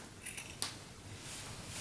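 Scissors make a couple of short, close snips through the end of a zipper while sewing a heart-shaped zipper pouch, with no talking.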